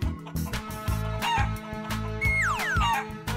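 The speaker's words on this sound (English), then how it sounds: "Chicken." A chicken clucks and then gives a rising, crowing call, set against a steady background of music in an animated animal sequence.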